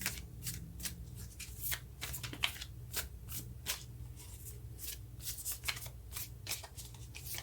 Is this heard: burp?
no